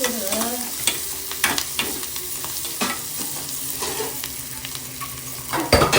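Onions and curry leaves sautéing in a pan, a steady low sizzle with scraping stirs and utensil knocks against the pan, close and moderately loud, with no one speaking.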